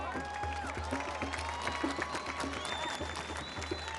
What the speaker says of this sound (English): Come on, Eric Garner Jr., give him a round of applause.